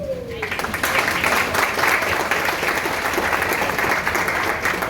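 An audience at a motivational speech bursts into applause after a brief quiet start. The clapping swells quickly into a full, sustained, fairly loud ovation that fills the hall until the end.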